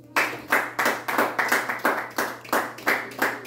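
A church congregation claps in praise of Jesus, a steady rhythmic beat of about twelve sharp handclaps in unison, close and clear with no talking.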